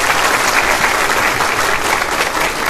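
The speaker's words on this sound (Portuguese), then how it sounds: "Palmas." An audience at a university event applauds loudly and steadily, a dense wash of many hands clapping with no break.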